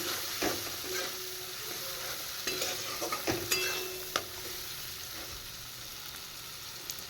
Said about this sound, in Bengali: এবার মশলাটা আমি একটু ভেজে নেব